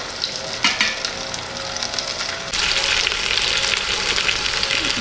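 Oxtail pieces sauté in a pan, a loud, close, continuous sizzle. A few clinks come early, then the frying grows denser and stronger about halfway through.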